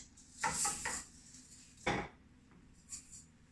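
Rinsed rice tipped into a cooking pot, two short rattling pours with clinks of grain and utensil against the pot, quiet and close, separated by near silence.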